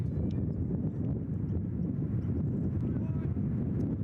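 Steady wind gusts buffet the microphone at a college baseball field, a loud continuous low rumble filling the whole stretch, with faint crowd or field sounds beneath.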